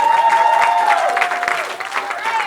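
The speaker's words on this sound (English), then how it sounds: "Let's have a round of applause for your DJ and MC." Wedding guests clap together in a warm, close burst of applause with a few cheers mixed in, lasting a couple of seconds at a reception.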